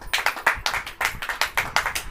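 A church congregation at a sermon claps in unison on cue, giving a rhythmic series of sharp group claps about every quarter second, fairly close and clear with no talking over them.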